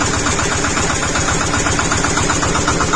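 Shifeng 240 tractor engine running after its NSh-10 hydraulic pump was replaced, heard as a loud, steady diesel idle with an even, rapid knocking rhythm and no voices.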